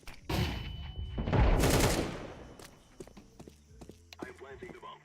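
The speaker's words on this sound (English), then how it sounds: "Flashbang out." A flashbang grenade and gunfire sound in a video game, with a sharp burst and crackling bangs over about two seconds, followed by scattered footsteps and small clicks.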